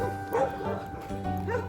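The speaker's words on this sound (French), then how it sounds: "On va se faire bouffer par les chiens." Several dogs bark and yip repeatedly at fairly close range, with short rhythmic bursts and some whimpering, while the bright harmonic barks stand out over background noise.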